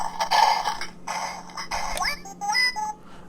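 Color-changing Galaxy's Edge Star Wars droid toy chirping and warbling in BB-unit style: a few short bursts of electronic beeps and whistles with rising sweeps, fairly close and moderately loud, no talking.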